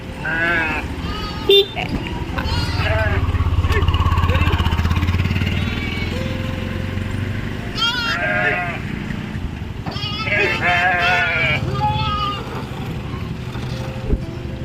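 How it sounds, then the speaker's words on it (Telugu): Goats bleat repeatedly over a steady engine rumble, with people talking nearby. "ఇక్కడ నుంచి అయితే మేకలు వస్తున్నాయి చూపిస్తాను మీకు"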